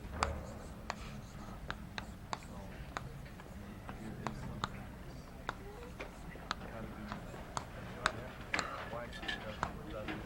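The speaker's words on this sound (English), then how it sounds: "we had to put some things on the board" Chalk or a marker writes on a board during a lecture, making a string of sharp taps and short scratches in an uneven rhythm over a low, constant room background.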